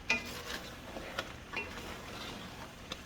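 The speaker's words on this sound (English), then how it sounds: "I'm gonna cover it back up" A lid set back onto a cooking pot of palava sauce in a home kitchen, with a few light metallic clinks and taps of cookware, quiet and close, alone without talk.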